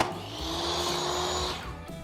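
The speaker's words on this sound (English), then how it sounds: "These pieces are all cut at a 45-degree angle on the miter saw." A miter saw cuts wood trim at a 45-degree angle for a bathroom accent wall, giving a loud, steady whining buzz that holds for about a second and a half and then winds down.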